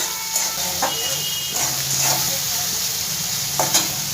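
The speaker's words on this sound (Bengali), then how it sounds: "আমি এক সেকেন্ডের মতন পেঁয়াজটা একটু ভেজে নেবো আগে" Onion fries with salt in hot oil, a loud continuous sizzling hiss that runs throughout, broken by several brief scraping stirs of a spatula in the pan, close by with no voices.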